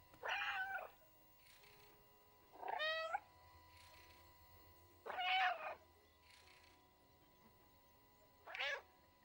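A cat meows in the video game Stray, four separate short meows spaced a couple of seconds apart over a quiet background hum.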